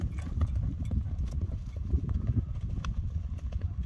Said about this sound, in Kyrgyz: Мына аттын жүгүрүшүн сынаңыздар тугандар